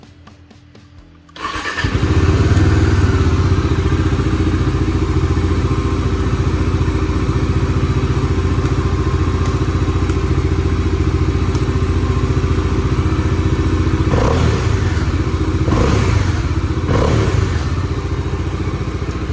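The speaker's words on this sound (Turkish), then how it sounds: "Şöyle bir marş yapalım sesine bakalım." After a moment of quiet, a Bajaj Dominar 400 motorcycle engine cranks and catches, then idles loudly and steadily nearby, with a few brief throttle blips toward the end.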